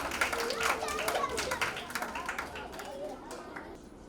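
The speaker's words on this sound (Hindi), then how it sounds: "जोरदार तालियां" Children at a kids' convention burst into a brief round of clapping, mixed with excited chatter and voices in a busy room that slowly quiets.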